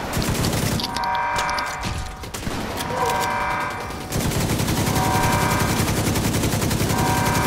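Sustained automatic gunfire in the video game Tom Clancy's The Division, loud rattling bursts nearly back to back, with a short lull around the middle before the firing resumes harder.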